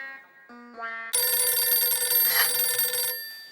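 Telephone ringing indoors in a household comedy scene, a bright electronic tone starting in brief stepped notes and then holding as a loud sustained ring for about two seconds.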